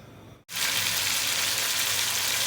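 Mutton sizzles in hot oil in a karahi for Lahori-style mutton karahi gosht: after a brief hush, a loud, dense frying crackle bursts in and holds steady, close and without talk.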